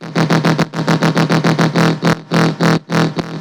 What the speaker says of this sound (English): That reverb's doing huge work.